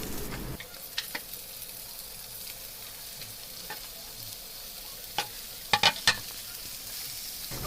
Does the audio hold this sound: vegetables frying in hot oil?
yes